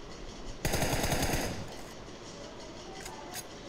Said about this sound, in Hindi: फायरिंग हो रही है यहां तो बहुत ज्यादा